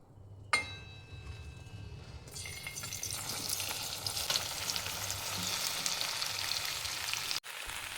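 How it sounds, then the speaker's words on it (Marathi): Okra frying in hot oil and stirred in a pan, a steady close sizzle that flares on the first contact and carries on with a few clinks of the spoon, alone. "तेल गरम झाले. भेंडी परतून घ्यायचे."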